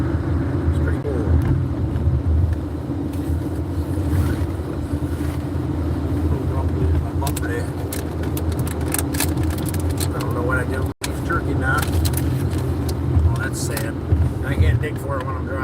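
A camper car drives along the road, its engine and tire rumble a steady low drone throughout, with people talking inside the cab over it.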